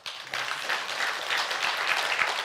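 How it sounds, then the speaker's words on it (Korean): A church congregation claps for the choir during a Sunday worship service, with steady, dense applause starting abruptly and holding at an even level, filling the room without any talk over it. "박수 한번 쳐주세요"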